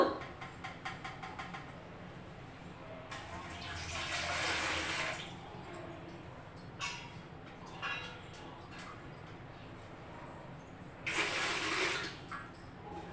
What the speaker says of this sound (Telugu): నేనైతే ఇడ్లీ పాత్ర తీసుకున్నా అయితే వాటర్ పోస్తాను ఇప్పుడు